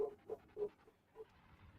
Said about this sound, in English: my dog is losing it upstairs now